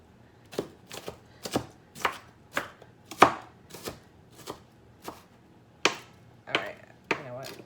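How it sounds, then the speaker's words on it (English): A knife chopping a red onion on a cutting board, about a dozen distinct, fairly sharp knocks in an uneven rhythm, close and alone with no talk. "I'm not going to bore you with this onion chopping"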